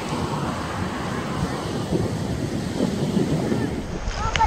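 Rough sea surf rolls in at a Rhode Island shore, a steady broadband roar of breaking waves with wind buffeting the microphone, continuous and close throughout.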